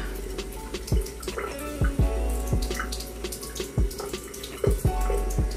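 Water runs from a tap into a sink for wetting a cloth or pad during a night skin routine, a steady close splash with several louder drip-like bursts and no talking.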